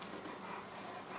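A dog pants steadily with a faint whimper, close and continuous over a noisy indoor background.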